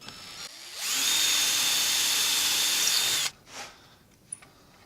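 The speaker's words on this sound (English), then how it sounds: "Then we'll drill the hole" A power drill whines steadily for about two and a half seconds at close range, drilling a hole in wood, then cuts off, leaving faint clicks and handling noise.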